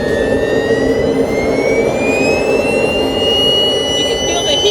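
The turbine jet engine of a giant RC model airplane at a Midwest warbird event roars close and loud, a steady whine climbing slowly in pitch over a broad rushing blast.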